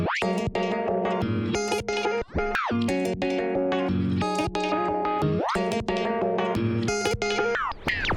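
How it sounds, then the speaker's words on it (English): A guitar loop processed with ShaperBox and frequency shifting, sustained chordal tones broken by rhythmic gating and swooping pitch bends, heard alone with no talk. "this is what the guitar loop sounds like with the shaper box and the frequency shifting"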